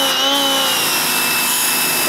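A pressure washer sprays a Honda 250 motorcycle, a loud, constant hissing rush of water that holds steady throughout without breaks.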